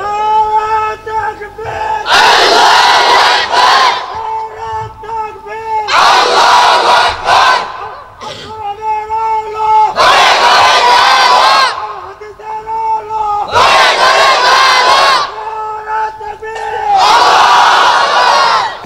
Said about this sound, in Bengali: আর একটা তাকবীর দে, খারা জোরে দে